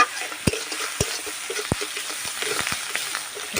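Onion paste frying in a pan with curry leaves, a steady soft sizzle broken by a few sharp clicks of a spoon or spatula against the pan.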